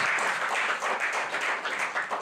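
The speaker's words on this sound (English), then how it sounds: "that deserves a wonderful round of applause" A crowd at a book launch dinner applauds steadily throughout, a dense wash of clapping with no voices on top.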